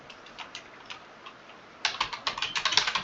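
Keys clack on a computer keyboard as a prompt is typed into an AI image tool, a few faint scattered taps first, then a close, rapid burst of crisp keystrokes.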